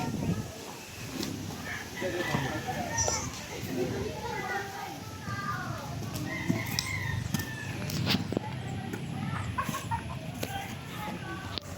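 Chickens cluck and a rooster calls amid an outdoor yard, with children playing and people talking nearby throughout.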